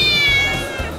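A playful female Oriental cat, a notably vocal breed, gives one drawn-out meow close by, lasting about a second with no talking over it.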